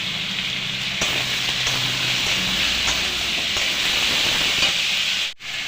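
Onions with bay leaves, salt and turmeric sizzle in a hot pan, a steady loud hiss like rain with soft crackles, running alone without talk and dropping out sharply near the end.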